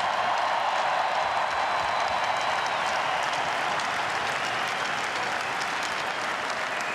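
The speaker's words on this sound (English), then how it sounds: "Standing ovation for Jay Bouwmeester" Sustained arena applause as a crowd gives hockey defenseman Jay Bouwmeester a standing ovation, dense rapid clapping from many hands, loud and steady for the whole stretch with a faint crowd murmur beneath.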